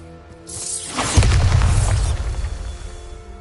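A Bombarda spell detonates in Hogwarts Legacy: a sudden loud magical blast with a bright crackling burst that settles into a deep rumbling boom, fading over a few seconds beneath light background music.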